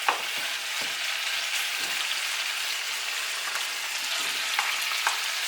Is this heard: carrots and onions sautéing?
yes